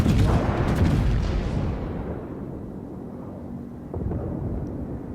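Heavy naval gun salvo from the battleship Bismarck in a warship video game, a deep rumbling boom that rolls off slowly, followed by a lower second thud, with no talk.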